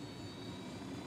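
A steady aircraft engine roar drones in the Ghost Recon Wildlands video game, a faint, even rumble with no talk over it.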